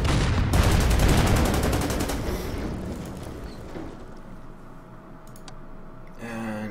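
Rapid gunfire from a World War II strategy game unit attacking an AA gun, a loud burst of quick repeated shots that fades into scattered clicks and rumbling, with a short rattling burst near the end.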